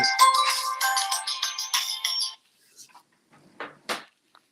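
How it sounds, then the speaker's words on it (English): A business phone rings after hours, a bright electronic ringtone repeating in steady bursts for about two seconds, then quiet apart from a few faint bumps and clicks nearby. "Sorry, that's my business phone, and it's after hours."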